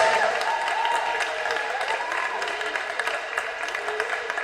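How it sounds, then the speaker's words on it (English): Basketball crowd at a SEABL game applauding the 2008 champions, the Kilsyth Lady Cobras, sustained arena applause heard at moderate distance with a few sharper claps standing out. "one last round of applause for the 2008 SEABL champs, the Kilsyth Lady Cobras."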